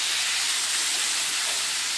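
Potatoes frying in hot oil with panch phoron, dried red chillies and salt for aloo posto, giving a steady, close sizzling hiss that runs unbroken, with no talking.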